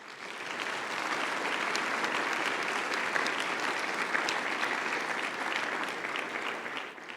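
Applause from a church congregation at a Sunday service, dense sustained clapping from many hands that swells in quickly, holds steady and loud, then tapers slightly at the end.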